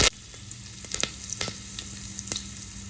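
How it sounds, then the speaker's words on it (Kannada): Curry leaves dropped into hot oil after mustard seeds for mango chitranna, crackling in a steady close sizzle with scattered sharp pops and spatters, no voices. "ಸಾಸಿವೆ ಹಾಕೊಂಡ ನಂತರ ಸ್ವಲ್ಪ ಹೊತ್ತಾದ ನಂತರ ಸೊ ಈ ಥರ ಕರಿಬೇವು ಸೊಪ್ಪನ್ನ ಹಾಕ್ಕೊಳ್ಳಿ"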